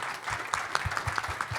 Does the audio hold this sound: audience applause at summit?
yes